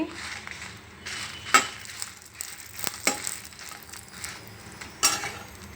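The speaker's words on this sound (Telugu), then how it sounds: "దోరగా వేయించుకుందామండి" Ingredients for chili powder dry-roasting in a pan, with a continuous dry sizzle, scraping stirs and several sharp metallic clinks of a spoon against the pan. A voice speaks briefly in the background.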